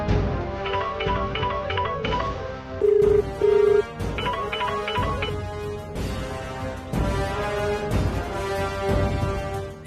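A melodic phone ringtone plays over and over for several seconds, its tones repeating in a steady pattern with no one picking up.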